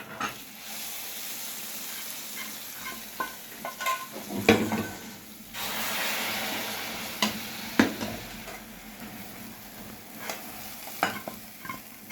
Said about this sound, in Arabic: هنحط بقى شويه من الطشه هنا على الوجه، شويه للملوخيه